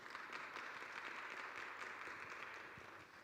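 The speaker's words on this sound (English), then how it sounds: "Maybe a round of applause would do that." Audience applause at a business forum and expo, steady dense clapping from a crowd that carries through the whole stretch at an even level, no voices over it.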